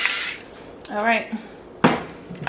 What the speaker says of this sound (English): I do apologize about the noise from my electric salt and pepper shakers